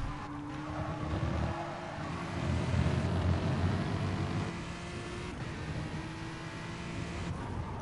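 Racing cars at Brands Hatch during a Supercars Group A round, engines droning and rising at a distance as they accelerate, a steady mid-level roar that swells and fades across several seconds with no talking.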